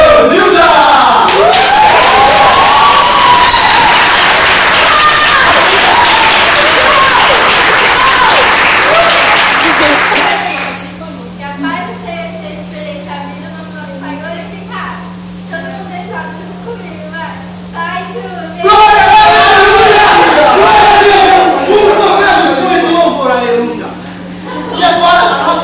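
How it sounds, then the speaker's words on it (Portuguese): A crowd on a Bauru, São Paulo TV show cheers and applauds loudly, shouting voices over clapping, then quietens to a lower stretch with a steady hum and talk before erupting again into loud cheering and clapping near the end. "peço que recebam elas com aplausos"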